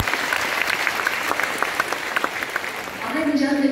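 Applause from an audience at a school education event, a dense patter of clapping that holds steady, then swells slightly louder at the end while a voice speaks under it.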